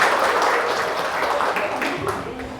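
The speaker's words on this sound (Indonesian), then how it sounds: "Oke, beri aplaus dulu untuk semua." A class of young students claps together in a classroom, a dense, steady burst of applause lasting a few seconds at moderate loudness with no talk over it.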